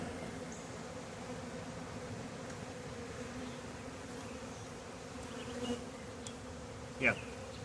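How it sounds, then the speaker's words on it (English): A primary swarm of honey bees hums as it is installed into a hive. The drone is steady and fairly soft throughout, and a single bee buzzes louder and closer near the end. "I'm sure this is a primary swarm"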